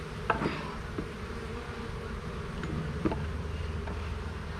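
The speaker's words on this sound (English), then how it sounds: "lots of bees down here though" A dense, steady hum of many honey bees buzzing close by during a hive inspection, with occasional louder individual buzzes passing near, no talking.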